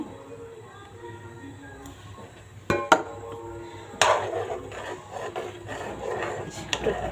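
A spoon stirs egg into chicken and vegetable soup in a cooking pot. A couple of sharp clinks come first, then steady close scraping and soft sloshing at a fairly low level.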